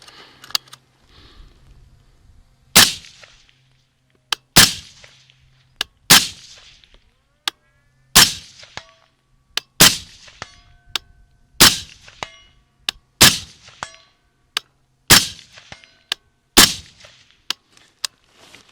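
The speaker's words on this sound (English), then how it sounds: "see what kind of hits we can get at 200 yards with the Mark 18" An MK18 rifle fires about a dozen loud, sharp shots at a steady pace, with faint metallic pings from steel targets 200 yards away following the reports.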